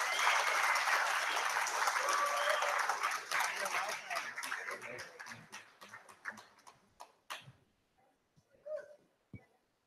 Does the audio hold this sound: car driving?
no